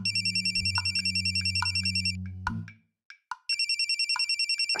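A mobile phone rings in a fast, warbling electronic pattern, stops briefly while a few knocks and rustles sound, then resumes just as loud.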